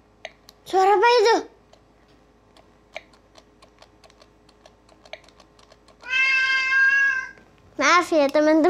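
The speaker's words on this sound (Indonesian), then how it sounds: "Ini suara kucing aku." A cat meows loudly three times, near the microphone, while keyboard keys tap softly in between.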